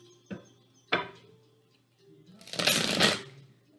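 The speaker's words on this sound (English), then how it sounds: "When they toss out too many, I do shuffle in between." Tarot cards are shuffled, with a couple of short riffling snaps followed by a longer, louder burst of cards rushing together, close and with no talking.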